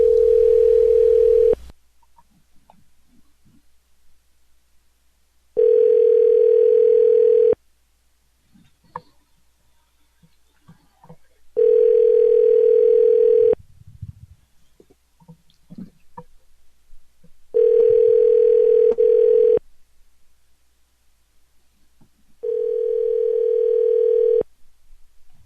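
A telephone dial tone plays after a call hangs up. It is a loud, steady tone that comes in four evenly spaced bursts of about two seconds each, with silence between them, and ends in a longer fifth burst.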